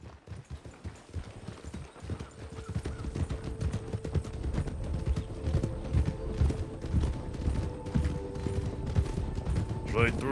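Horse hooves clip-clop steadily on a road in a Western roleplay video game, a continuous rhythmic trot over a busy mix of game ambience and background noise.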